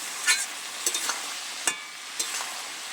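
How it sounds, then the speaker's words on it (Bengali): Malabar spinach curry with fish head is stirred in a pan, a handful of brief scraping strokes spaced irregularly over a soft, continuous sizzle. "একটু নেড়ে চেড়ে নিচ্ছে"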